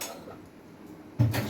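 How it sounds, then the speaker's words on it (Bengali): A wok is set down on a lit gas stove while making a fried chicken snack: one solid metallic clunk with a short rattle near the end, after a quiet stretch. "গ্যাসে কড়াই বসালাম"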